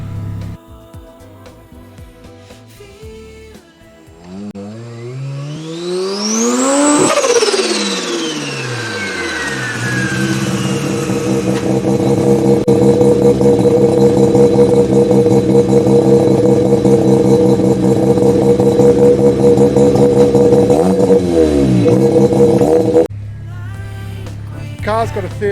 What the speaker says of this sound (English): The car's got a 13B in it with an aftermarket turbo, single turbo.